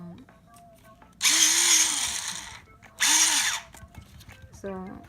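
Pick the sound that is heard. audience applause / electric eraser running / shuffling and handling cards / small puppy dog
electric eraser running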